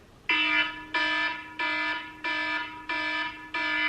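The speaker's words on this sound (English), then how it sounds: "the normal kind of like morning, you know, alarms that people have is something like this," An iPhone alarm beeps in six loud, evenly spaced bursts, each a bright harmonic chime with short gaps between.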